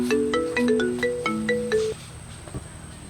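A mobile phone rings with a bright, melodic tone of quick rising and falling notes that plays for about two seconds and then cuts off, leaving quiet background.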